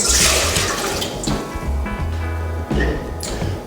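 Two cups of warm water, 100 to 110 degrees, pour into a bowl to start cardamom bread dough, a steady splashing rush that is loud and close, with brief pauses and no voices.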